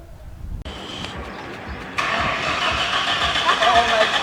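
An old car's engine cranks and catches, then settles into a loud, steady idle close by.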